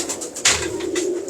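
Cooing from a fancier's pet pigeons, a low steady murmuring call heard close and alone, with a brief louder burst partway through.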